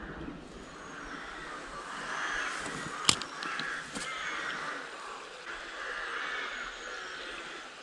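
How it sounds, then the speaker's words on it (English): Crows cawing beside a trout river in the morning, a few harsh calls at a distance over soft ambient outdoor noise, with one sharp nearby knock partway through. "you can hear the birds chirping and stuff in the background there, but that's class."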